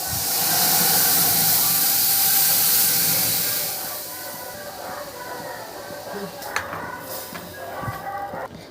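Mung bean water poured into a hot cumin and turmeric tempering, a loud burst of hissing sizzle that fades over a few seconds into softer bubbling and clinks, with speech over it.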